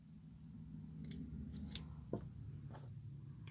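Old scissors snip through paper flowers for craft tags, with a few soft, close cuts spread over quiet background hum.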